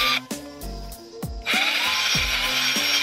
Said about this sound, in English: I'm gonna drill very close to the post because that's where the bolts are gonna go.